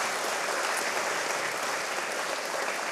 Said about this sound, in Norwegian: Jeg synes vi skal få en god applaus til han også.